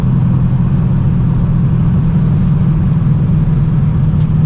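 A C6 Corvette Z06 V8 running rough with a misfire, a steady low rumbling idle that stays loud and close throughout, with no voices.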